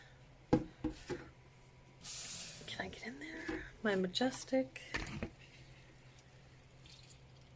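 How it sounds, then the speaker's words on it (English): Plants being watered in an Ikea greenhouse, with short spraying and dripping bursts, close and intermittent, between quiet spoken words from a person nearby. "we'll just water them right here"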